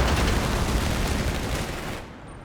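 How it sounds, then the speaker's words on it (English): MG42 machine gun fire in Company of Heroes 3, a dense, continuous burst of loud gunfire crackle that holds steady for about two seconds before tapering off abruptly. "Now they get mass suppressed by the MG42."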